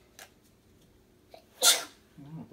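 A single sharp human sneeze bursts out indoors, preceded by a soft intake of breath and a couple of quiet noises, with a brief voiced sound trailing after.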